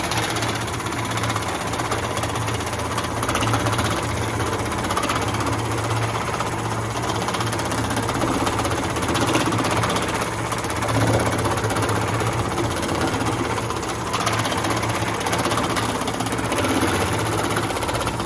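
Old-school metal shaping machine at a training workshop in Aalborg, Denmark, running in a loud, continuous mechanical hammering drone with rapid even strokes throughout, no voices.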